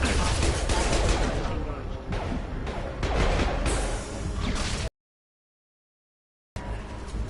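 Heavy, rapid gunfire and crashing impacts in the game Mass Effect 2, loud and continuous for about five seconds, then a sudden silence before the shooting resumes.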